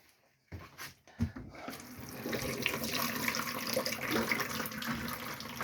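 Hot water running from the bathroom vanity sink tap in a Bailey Pursuit 400 caravan: a couple of handling clicks, then the tap opens into a steady close splashing stream that continues to the end.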